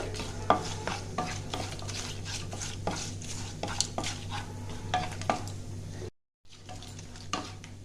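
About a dozen cashews frying in a pan for Basanti pulao, a steady low sizzle with frequent clinks and scrapes of a spoon stirring, briefly cutting out near the end.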